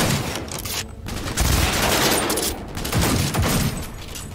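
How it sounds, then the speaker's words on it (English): Heavy gunfire from a hand cannon in the video game Cyberpunk 2077, a dense run of loud, booming shots that fills the whole stretch, with a brief gap in the middle before the firing resumes. "I really like his hand cannon."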